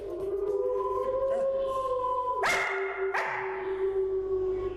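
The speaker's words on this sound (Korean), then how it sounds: "이번엔 하울링 대신 짖는 반응을 보이는데요." A Mudi, the Hungarian herding breed, answers a recorded wolf howl with barks: a steady played howl tone runs first, then two sharp, loud barks cut in near the end, indoors and close.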